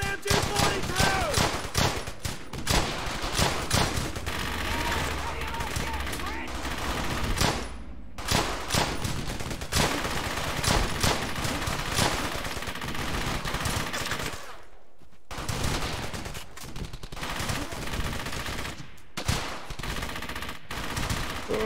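Sustained automatic gunfire from an MG 42 machine gun in the video game Brothers in Arms: Hell's Highway, dense overlapping bursts and battle noise running throughout with brief lulls, loud and close.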